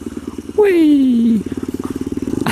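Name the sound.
Skyteam PBR motorcycle with carbon exhaust riding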